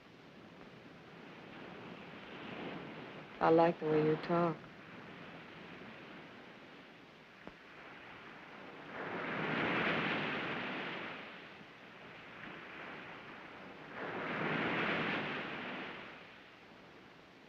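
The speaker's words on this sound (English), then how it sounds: "You like the sound of the ocean?" Ocean surf in the 1945 film Fallen Angel rolls in as two slow, distant swells that rise and fade over a low constant wash, with a brief line of speech early on.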